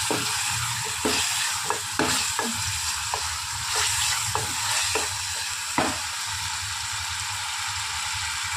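Spices with turmeric roast in a hot pan, giving a steady sizzle. A spoon scrapes the pan in repeated stirring strokes that are close and distinct, and there is no talking.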